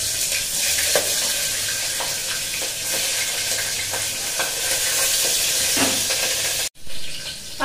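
Green chillies sizzle steadily as they fry in oil in a pan, a loud continuous crackle with small pops and stirring scrapes, cutting out briefly near the end before resuming.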